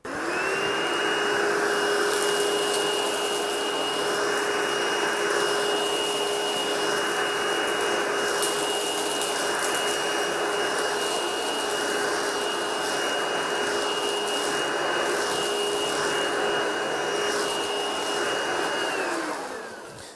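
An Ecovacs Deebot Pro 930 robot vacuum cleans a carpet, running steadily and loudly with a constant motor whine and brushing hiss, unbroken for about twenty seconds before it cuts off at the end.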